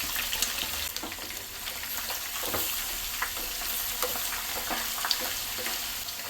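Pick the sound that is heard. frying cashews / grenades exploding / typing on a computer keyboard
frying cashews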